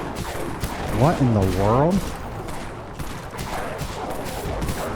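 The SR-10 Disruptor pistol fires in the zombie shooter game Dead Frontier: a rapid run of sharp shots in quick succession, with someone talking over the gunfire.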